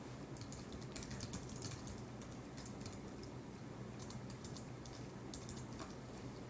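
Quiet keystrokes on a computer keyboard tick away in irregular clusters over a steady background hiss, faint and close with no talking.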